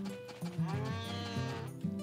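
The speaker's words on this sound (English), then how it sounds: "Why are you mooing aggressively at your your husband?" Cow in the farming game Harvest Moon: A Wonderful Life mooing in drawn-out, wavering calls that repeat several times, clear and fairly up front with simple game background music.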